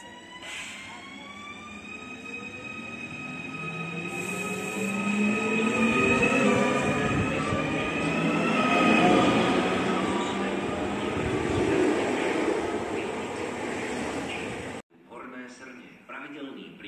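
An express train at Trenčianska Teplá station: a long, loud sustained tonal whine and rumble of the train passing close, with steady humming harmonics that slowly shift, while a station announcement plays over the noise.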